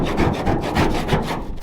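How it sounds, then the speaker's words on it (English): A hand scraper stripping paint off a car roof, rapid repeated rasping strokes in a steady back-and-forth rhythm, loud and close with no talking. "I'm gonna scrape for a little bit now."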